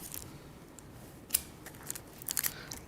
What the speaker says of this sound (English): I'm just going to cut out a couple more